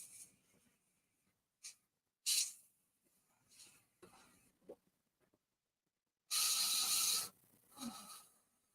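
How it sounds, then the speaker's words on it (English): Airbrush spraying paint onto a miniature: short sharp hissing bursts, the longest lasting about a second, separated by quiet pauses. "it's not easy to airbrush this"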